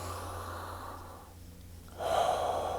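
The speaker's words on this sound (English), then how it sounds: "Let's take a big inhale." A slow, deep inhale through the nose during a guided mindfulness breathing exercise, soft and close, with a brief pause and then a stronger airy rush of breath toward the end.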